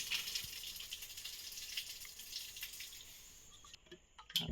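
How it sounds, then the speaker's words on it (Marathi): Prawns are rinsed under running water, with a soft tap stream, light splashing and rattling in a sink, fading toward the end. No one speaks. "आता आपण जरा कोळंबी धुवून घेऊया."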